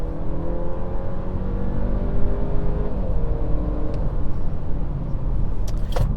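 A 2022 Audi A4 40 Premium sedan on the road, its engine and tyre noise a steady, fairly loud drone with a gently shifting engine tone and no talking.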